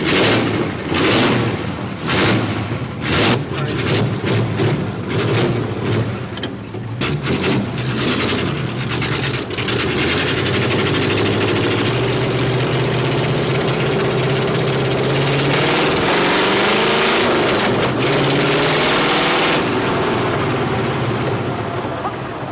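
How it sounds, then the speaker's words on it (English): A classic car engine idles with its carburetor running rich, a loud, steady low rumble that carries on through the clip, with several sharp knocks or bangs near the start. "I'm gonna have to adjust the carburetor. It's running really rich."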